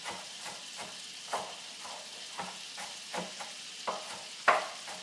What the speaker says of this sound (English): the butter's almost melted